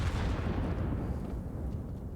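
Counter-Strike grenade stack bursting in a pro match, a dense cluster of heavy, booming explosions that rumble loudly from the start and then slowly fade, with no talk over it.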